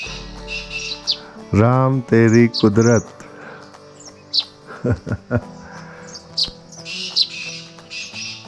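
Birds chirp and tweet in short bursts throughout, in a village in the morning in Pithoragarh, with someone speaking briefly over them partway through.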